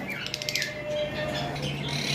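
Small parakeets chirp in quick, bright tweets over a steady background hum, close by and brief.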